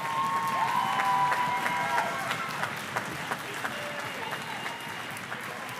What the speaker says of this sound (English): Let's give them one more big clap, please.